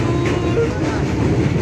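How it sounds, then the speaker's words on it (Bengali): A passenger train crossing the Rupnarayan river on the way to Digha, heard as a steady, close rolling rumble from on board, with faint wheel clatter over the short stretch. "আমাদের ট্রেনটা পাস করছিল রূপনারায়ণ নদী"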